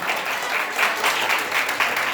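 A brief, even round of hearty applause rises from an audience at a Hindi poetry gathering, a steady wash of many hands clapping together at close range.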